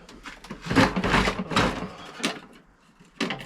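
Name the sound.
rummaging through a drawer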